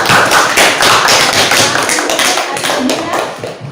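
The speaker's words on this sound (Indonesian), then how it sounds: "berikan aplaus untuk kelompok 1" A group of student teachers in a math classroom applauds for the first team, with dense, continuous hand clapping that is loud and close for several seconds and tapers slightly at the end.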